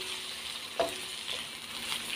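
Vegetables with green beans, carrots and soy sauce being stir-fried with chicken in a pan, giving a faint steady sizzle with occasional light scrapes of stirring, no voices.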